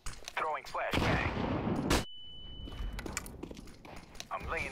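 Gunfire bursts and a flashbang in the tactical shooter CS:GO, a loud dense crack and blast followed by a brief ringing tone and scattered lighter shots, with game voice chatter in between.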